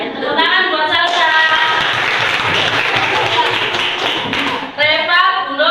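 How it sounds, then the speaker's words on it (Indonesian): Pupils in an Indonesian classroom clap for a classmate, a loud dense burst of close hand clapping lasting several seconds, with children's voices talking just before and after. "Tepuk tangan"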